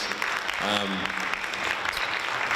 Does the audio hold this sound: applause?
yes